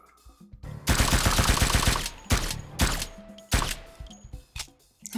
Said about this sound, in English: The pistol can be suppressed with a very, very cartoonish but really cool suppressor or silencer sound.